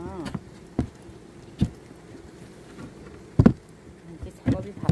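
Honeybees buzz around a beehive while a super box is being added for swarm prevention; a faint, continuous buzzing is broken by several short knocks and handling noises, with a brief voice at the start.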